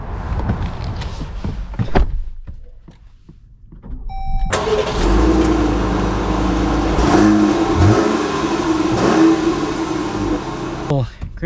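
A 2025 Jeep Grand Cherokee Summit Reserve starts up after some cabin handling noises, then its engine hums and rises steadily as the SUV accelerates, heard close from inside for several seconds.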